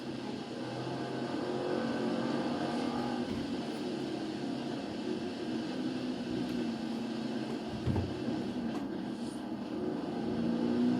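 A Lamborghini Urus engine drones steadily while driving in Forza Horizon 4, with a smooth low hum and slight rises in pitch, no talking over it.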